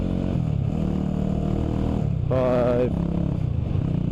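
A 1989 Honda GB250 Clubman six-speed motorcycle engine runs steadily close by while being shifted through its gears, with a brief rising whine midway, and a person talks over it.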